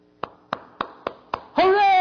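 Five sharp hand claps evenly spaced and close, followed right away by a voice starting to speak.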